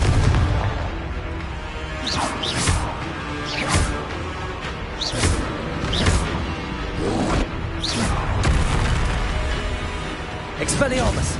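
Repeated Confringo spell blasts from Hogwarts Legacy on PS5, booming whooshes every second or so over a dense, loud backdrop of game sound, with a voice talking throughout.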